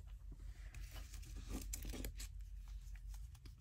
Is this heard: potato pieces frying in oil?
no